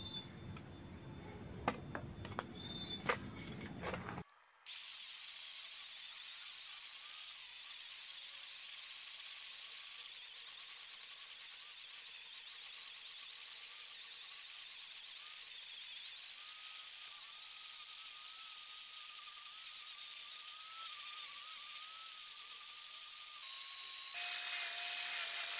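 Hand angle grinder fitted with a 150-grit sanding disc smoothing a machete handle carved from tree root, a continuous high whirring whine with shifting pitch, close and steady for about twenty seconds after a brief scraping start.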